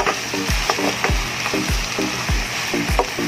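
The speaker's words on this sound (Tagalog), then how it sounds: "Ginigisa natin siya ngayon sa luya, bawang, sibuyas." Native chicken pieces sauté with ginger, garlic and onion in a hot pan, a steady sizzle punctuated by regular scraping stir strokes roughly twice a second, close and loud with no talking.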